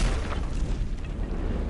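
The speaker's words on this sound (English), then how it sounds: "That's a big explosion." Big explosion in the video game Metro Last Light Redux, a dense low rumble with crackling debris that starts strong and slowly fades over a couple of seconds.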